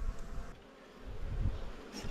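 Steady buzzing of many Italian Cordovan honey bees close by at an opened hive after wintering, a dense continuous hum with small swells in loudness.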